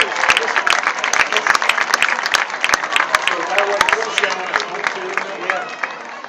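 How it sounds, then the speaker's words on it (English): A crowd at a varsity high school football game applauds lady dancers out on the field in the evening, with dense clapping throughout and an announcer speaking over it. "Give a nice big round of applause for all of our lady dancers out on the field this evening."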